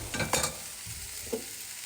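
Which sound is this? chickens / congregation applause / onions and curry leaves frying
onions and curry leaves frying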